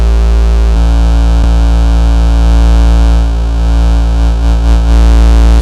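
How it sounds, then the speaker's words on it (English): Cwejman SM-1 synthesizer module clipping: a loud, sustained, harmonically rich distorted tone with a low drone, shifting character a few times, alone with no talk. "it clips quite readily, even without the distortion"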